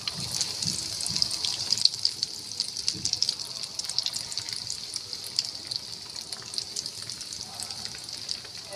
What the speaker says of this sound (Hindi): अब हम इनको इस तरीके से इसमें डाल देंगे और हमने इनको बिल्कुल लो फ्लेम पे जो है फ्राई करना है